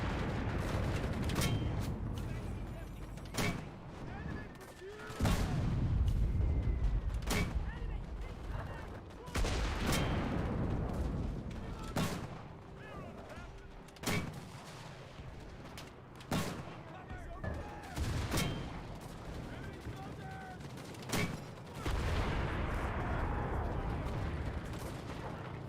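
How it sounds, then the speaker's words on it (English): Repeated mortar and gunfire blasts in the video game Enlisted, a Battle of Berlin battle, with booming impacts scattered irregularly across the clip amid a constant din of distant battlefield fire. "mortar tube spam"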